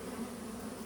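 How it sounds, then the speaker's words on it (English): Honeybees buzz steadily around a new hive as they fly in to land, a close continuous drone with no talking. "You see how these bees are trying to land and come in the new hive"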